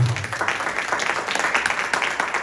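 Church congregation giving a strong round of applause to Jesus Christ, an uneven patter of many hands clapping at close range, with a brief voice at the start.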